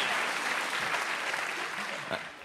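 A stand-up comedy audience bursts into dense, steady applause that fills the room for a couple of seconds, many hands clapping at once with a loud, even texture and only a faint hint of voices underneath.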